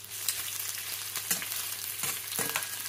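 Shrimp frying in a hot pan give off a steady, close sizzle, broken by a few sharp scrapes and clacks as they are turned over.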